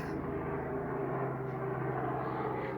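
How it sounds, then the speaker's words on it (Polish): A helicopter's steady engine drone hums overhead with a low rumbling tone, continuous and moderately distant, with no talking. "O, zobaczcie, tam jest helikopter."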